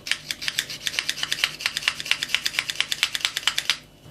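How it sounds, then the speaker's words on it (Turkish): Two garlic cloves are grated by hand for a yogurt and mayonnaise dressing on a celery salad, giving a quick, steady run of dry scraping strokes, close and fairly quiet, which stop abruptly near the end. "İki diş sarımsak vardı. Onları da rendeliyoruz."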